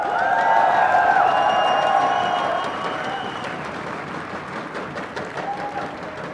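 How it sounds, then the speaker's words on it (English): A live esports crowd at a Las Vegas tournament roars with cheering and applause, loud and sustained at first, then easing to a steady, lower wash of clapping and crowd noise. "Let me hear you guys in the crowd."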